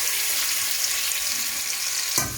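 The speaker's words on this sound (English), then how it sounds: "Now I'm going to add onion." About 250 grams of sliced onion frying in a family-size pot of lamb dhansak, a steady broadband sizzle running throughout with a brief clatter near the end.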